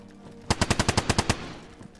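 Rapid gunfire in the video game DayZ, about nine evenly spaced loud shots in a quick burst, up close, then fading ambience with no talking.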